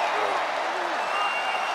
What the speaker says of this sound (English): The crowd has been electric here in Hershey all night tonight.